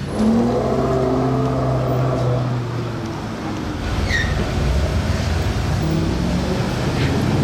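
A black car passes along a Monaco street, its broad engine and road rumble steady and fairly loud throughout, with a brief higher whine midway and no talking.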